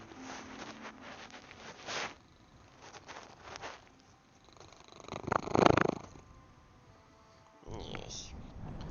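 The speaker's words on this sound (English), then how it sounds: "I have a lap cat right now." A cat purring on a lap sounds as a faint, close, rumbling purr with soft rustles, swelling briefly louder near the middle.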